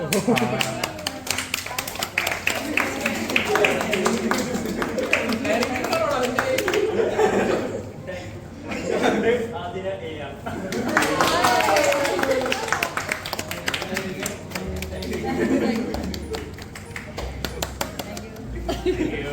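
People clapping at an office Christmas party, bursts of hand claps and taps mixed with lively chatter, laughter and talking throughout, with a brief lull partway through.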